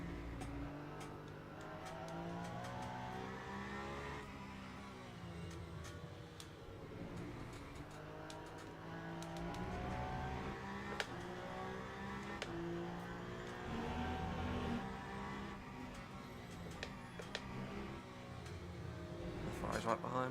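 A Porsche race car engine in a sim racing game revs and shifts repeatedly through a lap, with rising and falling tones close by, while a person talks over it.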